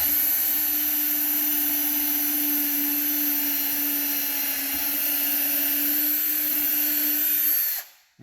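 Power drill boring holes for kitchen cabinet handles, a steady high-pitched whine held close and loud for about eight seconds before cutting off abruptly.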